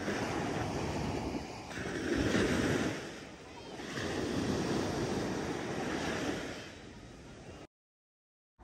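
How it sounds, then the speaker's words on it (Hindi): Gentle sea waves wash onto a UK beach, a soft surf that swells and recedes in slow surges with some wind noise, then the sound cuts off abruptly near the end. "हल्की हल्की लहरें आ रही थी"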